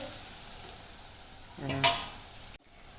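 Torn roti pieces being stirred into a frying green-pea kachori filling in a pan: a steady low sizzle, then a short louder burst of scraping and hissing as the mixture is turned, followed by a brief lull.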